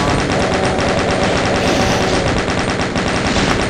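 Rapid continuous gunfire from the video game DOOM, a loud, dense stream of machine-gun shots repeating in quick even rhythm for several seconds without pause.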